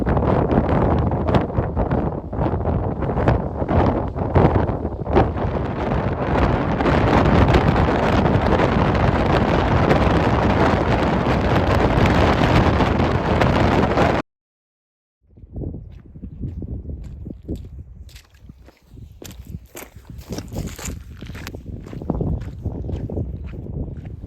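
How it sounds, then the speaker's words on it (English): Strong, bitterly cold wind buffets the microphone on a Scottish mountain summit overlooking Loch Ness, a loud continuous roar that cuts out abruptly, then returns in gusty bursts. "winds swept across the summit and were bitterly cold"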